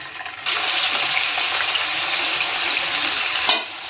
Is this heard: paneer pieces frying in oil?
yes